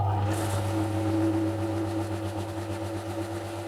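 A new pool pump fitted with an SSR-60WA-R1 soft start module, running on an off-grid inverter, gives a loud, steady electric motor hum with a low drone and tonal overtones.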